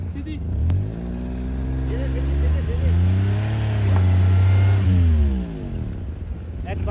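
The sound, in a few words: car revving, slipping on snowy road in Murree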